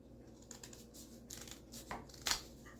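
Quiet crisp scissor snips through folded paper and paper rustling, a few soft crunchy cuts ending in one sharper snip, close by with no talking.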